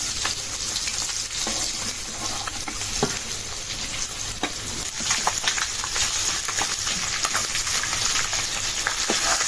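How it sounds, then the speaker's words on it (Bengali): Fish frying in a pan with oil, giving a steady, dense sizzle and crackle that holds close and loud throughout, with no talk. "মাছগুলো তো ভাঙে না সুন্দর ভাজা হয়"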